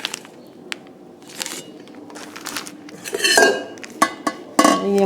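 A Hawkins 5-litre pressure cooker is handled, its metal parts clinking and clattering in sharp, close knocks, sparse at first and then busier with several bright rattles toward the end, without talk.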